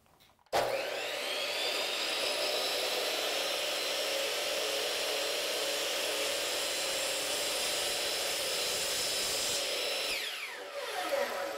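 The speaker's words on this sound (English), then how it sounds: "And the saw has an automatic brake on it so that when you let go of the trigger, it'll slow the blade down pretty quick." A chop saw starts abruptly and cuts through wood with a loud, steady high whine lasting about ten seconds, then the blade winds down quickly under its brake.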